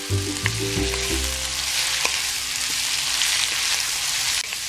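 Vegetables with onions and ginger stir-fry over high heat, giving a steady loud sizzle throughout with a few clacks of stirring near the start.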